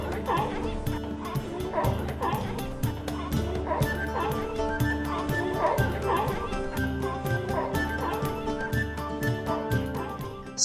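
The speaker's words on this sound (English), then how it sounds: "playful fur seals." Fur seals on the Otago Peninsula, New Zealand, bark and yelp repeatedly in a continuous, fairly loud chorus over a steady background.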